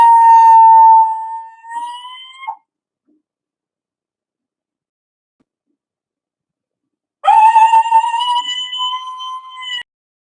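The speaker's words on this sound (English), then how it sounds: "when they call out like that, all the other coyotes in the area can hear" A coyote howls at night: a long, wavering high call that breaks off, a stretch of silence, then another sustained, rising howl, close and loud.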